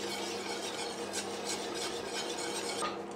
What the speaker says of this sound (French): Voilà, on remue bien.